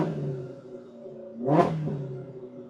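A Polaris RZR Pro R side-by-side fitted with an MBRP slip-on sport exhaust idles, then blips in one quick, crisp rev that rises and falls fast before settling back to idle.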